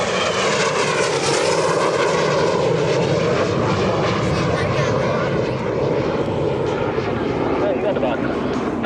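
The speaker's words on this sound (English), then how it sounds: "Greg Colyer, T-33 Shooting Star." A T-33 Shooting Star jet at the EAA AirVenture airshow, a loud sustained engine roar that fills the whole stretch, nearby, with a voice talking over it.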